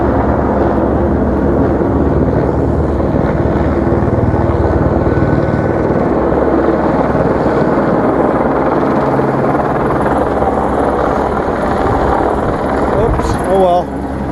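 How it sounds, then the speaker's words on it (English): A helicopter hovering close overhead at night with a bright white light on, its loud steady rotor and engine roar filling the whole stretch and swelling slightly near the end. "What the fuck is with this helicopter?"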